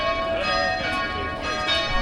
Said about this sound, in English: The bells are ringing from this church.